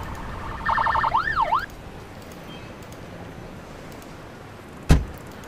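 A police siren in the emergency-services game Emergency 4 (São Paulo mod) gives one short, loud warbling burst of about a second and then cuts off. A single sharp thump follows a few seconds later over steady background noise.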